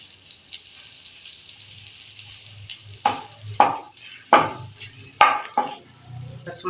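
Green chilli drops into butter frying in a pan while making paneer butter masala, a soft sizzle underneath a few sharp scraping stir strokes that come in quick bursts.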